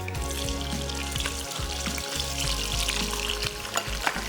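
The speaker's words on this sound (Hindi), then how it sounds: "तो सबसे पहले हमने मटन को करना है फ्राई।" Mutton pieces fry in a hot pan with a dense, steady sizzle and crackle, close and continuous, with occasional small pops and spatters and no talking.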